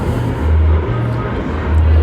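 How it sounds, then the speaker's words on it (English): Airplane flying near Newark Airport over a waterfront park in Elizabeth, New Jersey, a loud steady low engine drone rising and falling slightly throughout, with outdoor ambience and no clear talk. "There's an airplane right there."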